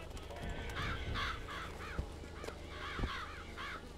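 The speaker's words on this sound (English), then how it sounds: "Why are there crows everywhere?" Crows caw repeatedly in the video game Bioshock Infinite, several harsh calls in quick succession at moderate distance over a busy rumbling game soundscape.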